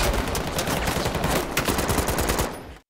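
Sustained automatic gunfire rattles through a film shootout between robbers and a SWAT team, a dense, loud, continuous volley of rapid shots that cuts off abruptly near the end.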